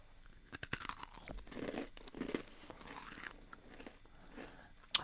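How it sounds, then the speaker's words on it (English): Someone bites into a crunchy cookie brittle made with white sugar and chews it, producing a run of close, crisp cracks and crunches at an irregular pace, with a sharp snap near the end. "It's a brittle because it's really crunchy."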